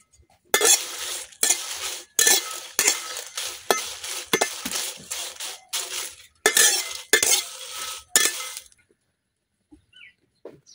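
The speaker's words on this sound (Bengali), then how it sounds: "আমার কড়াই কিন্তু গরম হয়ে গেছে। এখন আমি কড়াইয়ের মাঝে দিতেছি মরিচ," Chillies stirred in a hot, dry wok make a dozen quick, rhythmic metallic scraping strokes close up, then the sound stops and a short silence follows.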